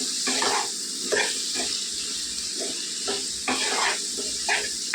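Bitter gourd pieces stirred in hot oil with turmeric and salt, steady sizzling hiss broken by repeated scraping strokes of a spoon in the pan, close and clear.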